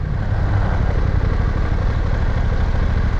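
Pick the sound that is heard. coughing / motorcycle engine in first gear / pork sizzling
motorcycle engine in first gear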